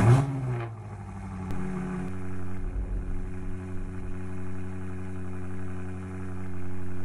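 A BMW car engine in the Roblox game Mansion Tycoon gives a short rev at the start, then settles into a steady, humming idle that holds, loud and alone.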